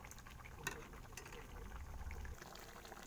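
Boiled liver for a dog heats in a pot on a kitchen stove, giving a faint, steady bubbling simmer with a soft clink near the start.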